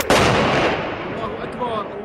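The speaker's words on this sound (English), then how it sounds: "The shelling is relentless, indiscriminate. Artillery against residential areas." An artillery shell lands near residential areas in Homs, a single loud booming blast that rolls off into a long decaying rumble with scattered crackles as it fades.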